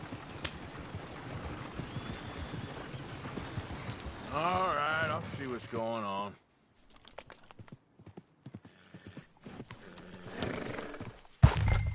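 Horses in Red Dead Redemption 2 clip-clop steadily on hooves, then one gives a loud whinny, followed by quieter movement and a brief sharp noise, with a voice speaking over the scene.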